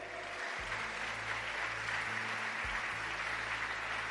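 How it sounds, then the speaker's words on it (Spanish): A church congregation applauding together, a steady dense wash of clapping from many hands that holds evenly throughout, with a low hum underneath and no voices on top. "Aplauda fuerte para nuestro Dios,"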